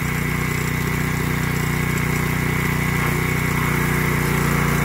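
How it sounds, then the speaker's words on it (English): A pressure washer engine runs a mini sewer jetter in a drain line, giving a loud, steady mechanical drone with a constant hum and no break. "with our trigger from the pressure washer, we can kick it on, and that should just pull itself right down through the line"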